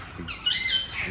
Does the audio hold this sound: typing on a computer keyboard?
no